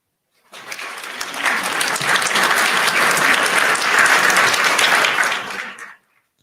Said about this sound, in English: And ang kailangan nyo is an applause.